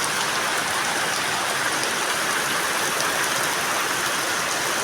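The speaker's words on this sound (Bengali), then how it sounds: "কি বৃষ্টি হচ্ছে" Heavy rain pours steadily and loudly throughout, a dense unbroken wash of drops hitting surfaces close by, with no voices.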